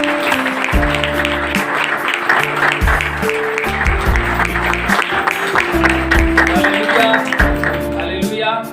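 A church congregation claps loudly and steadily for several seconds, a dense crowd of applause running over background music.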